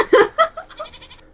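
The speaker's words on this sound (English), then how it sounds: "Oh, it's a goat." A goat in Minecraft gives a wavering, stuttering bleat, loud at first and then trailing off in quick fading pulses.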